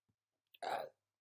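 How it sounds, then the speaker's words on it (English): A single nervous burp, short and close, after a couple of faint clicks in near silence. "I'm getting my nervous burps now."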